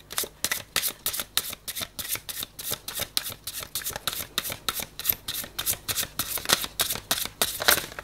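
Oracle cards are shuffled over and over in a steady stream of crisp riffling snaps, close and fairly loud, running without pause for the whole stretch.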